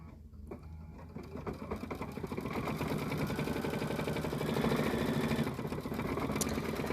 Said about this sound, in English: And it's going to do a quilting stitch over, or a fill stitch in that small little area.